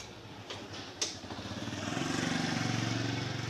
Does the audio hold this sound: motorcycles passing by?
yes